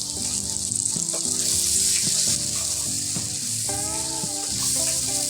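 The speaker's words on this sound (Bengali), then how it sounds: "এবার আমরা নেড়ে চেড়ে আলুগুলোকে ভেজে নেব।" Potatoes seasoned with salt, turmeric and chili powder sizzle and fry in a pan, with steady crackling and occasional stirring scrapes and clinks of a utensil, close and continuous.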